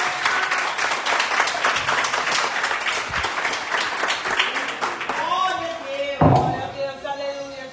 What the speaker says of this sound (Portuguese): vamos receber o servo do Senhor com uma salva de palmas bem forte